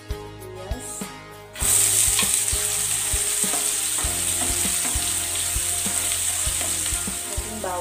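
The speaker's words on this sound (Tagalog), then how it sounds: "Mainit na ang ating kawali. Lagay na natin ang oil." Hot oil in a heated wok hisses and sizzles loudly and steadily while frying vegetable spring rolls, with occasional clanks of a utensil against the pan, and no talking.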